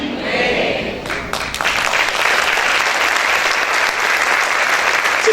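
A church congregation applauds the Lord during a Spanish-language worship service, with a dense, steady wash of clapping that swells after the first second and holds loud throughout.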